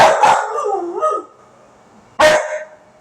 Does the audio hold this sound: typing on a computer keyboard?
no